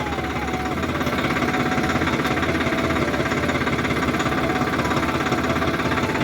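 A tractor engine runs steadily throughout, a loud continuous mid-pitched rumble with a fast knocking pulse, heard close as from riding on the tractor with a trolley hitched behind.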